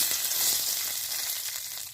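Peanuts frying in a hot pan, a close, continuous sizzle and crackle with faint stirring scrapes, steady and uninterrupted by speech.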